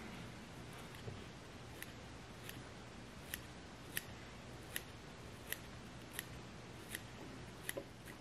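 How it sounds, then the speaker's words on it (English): Curved Dr. Slick scissors snip through fly-tying material for a hopper pattern, giving a run of about ten crisp, quiet clicks spaced evenly over a soft background hiss. "Curved pair of scissors, this is what I use."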